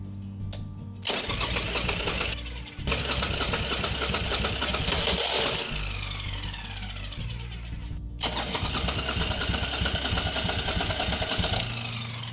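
A motorcycle that had not been running, fitted with a new battery, cranks and turns over in loud sustained bursts with brief pauses between attempts, the engine churning close by without catching cleanly.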